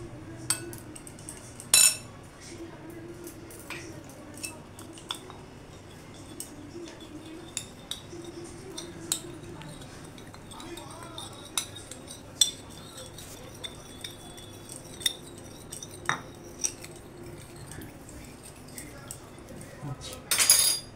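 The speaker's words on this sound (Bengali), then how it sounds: "কর্নফ্লাওয়ারের সাথে আমি একটু নুন দিয়ে এটাকে গুলে নেব" A spoon clinks and scrapes against a bowl while cornflour and salt are stirred into water, sharp metallic taps scattered through a low steady background.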